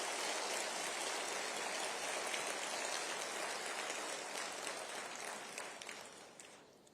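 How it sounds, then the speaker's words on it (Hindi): A large audience at a Rajasthan government event claps loudly and continuously to welcome the Vice President, a dense even roar of applause that slowly thins toward the end. "एक बार जोरदार तालियों से आप उनका स्वागत करें"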